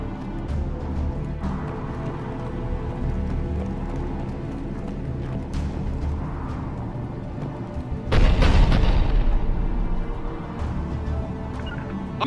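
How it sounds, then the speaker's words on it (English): A dense, rumbling Mass Effect 3 Remastered soundscape with a sudden loud boom of cannon fire near the end, followed by a lingering roar. "The cannon fire is clearing the way"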